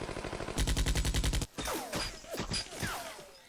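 Gunfire from a sapper squad in a Vietnam War strategy video game: a rapid, evenly spaced burst of automatic fire for about a second, then a scatter of sharper shots and whizzing effects fading away, with no talk.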